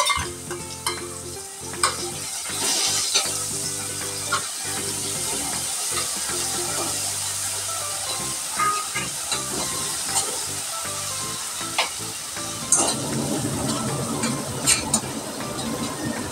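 Green masala and five or six garlic pieces sizzle in a hot pan with steady frying crackle, as a spoon repeatedly stirs and scrapes against the metal, the sizzle swelling louder toward the end; no talking.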